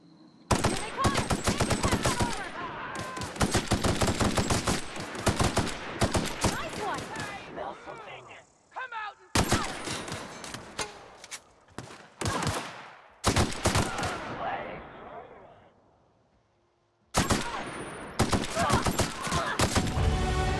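Gunfire from The Outer Worlds video game: several loud, close bursts of rapid shots separated by short gaps, each burst trailing off briefly, with no talk over them.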